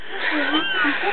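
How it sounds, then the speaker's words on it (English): A cat meows in a trailer with a few drawn-out, rising and falling cries that sound close and fairly loud, over a thin, muffled background. "I love this kitty."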